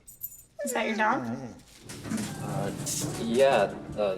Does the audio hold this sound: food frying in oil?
no